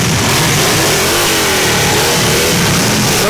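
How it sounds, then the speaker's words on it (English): Loud, close revving from motorcycles fitted with special mufflers at a Christmas parade in Henderson, Texas, a dense continuous engine roar that swells and sustains for a few seconds with no talk. "A little bit of their motorcycle revving."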